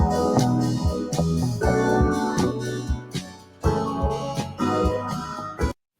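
Upbeat, happy music track, intended as a YouTube Premiere countdown backing, plays loud and alone with a bouncy bass line and steady rhythmic beats, briefly dipping before resuming.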